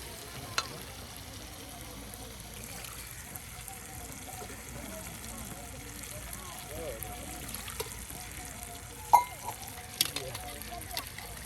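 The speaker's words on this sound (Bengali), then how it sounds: "মশলা আপনার কষিয়ে কষিয়ে নেওয়া হচ্ছে, একদম ভাজা ভাজা করে নিয়ে এরপর মাংস দেওয়া হবে" Spices fry in a pan for a beef curry cooked outdoors on a riverbank, giving a steady low sizzle with scattered stirring clinks and voices faintly in the background.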